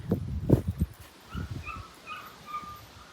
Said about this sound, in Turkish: yavru köpeğini getirdik